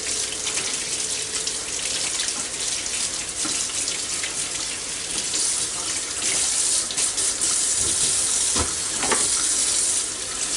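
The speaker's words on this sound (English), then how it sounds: "the first thing we gotta do is wash all the dirt off this potato real good" A potato being washed and scrubbed clean of dirt under a running kitchen tap, a steady close rush of water with occasional splashes and brief scrubbing knocks, no talking.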